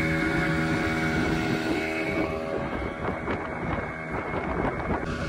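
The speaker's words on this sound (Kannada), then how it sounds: "ನೋಡಿ, ಡಬಲ್ ಇಂಜಿನ್ ಇದೆ ದೋಣಿಯಲ್ಲಿ." A twin-engine fishing boat running at sea, a steady droning motor hum with wind buffeting the microphone, loud and continuous throughout.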